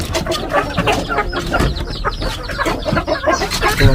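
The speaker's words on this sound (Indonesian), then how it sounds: "mau dikasih makan langsung berisik." Chickens cluck and squawk noisily at feeding time beside a rural hut in Indonesia, a dense, close, continuous flurry of overlapping calls with no talk.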